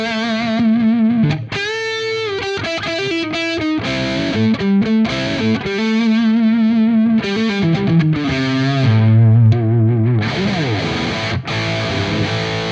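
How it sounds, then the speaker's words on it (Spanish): Tokai Les Paul style electric guitar, a black LC-132S, played through distortion with a thick, sustained tone, a busy run of chords and single notes that fills the whole stretch without talk. "la guitarra de hoy tiene una esencia, pues bueno, súper Les Paulera, así súper clásica, con un sonido pues gordote, con sustain, con chicha"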